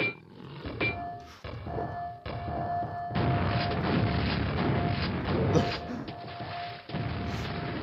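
Grenade blasts and rumbling booms inside the Quake expansion Scourge of Armagon, with repeated low thuds and a sustained roar running through a busy, loud stretch of game combat.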